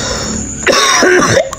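A single close, harsh cough burst of under a second from a man with a rainy-season cold, standing by a plain chicken coop built from leftover scrap wood during a home renovation, over faint room noise.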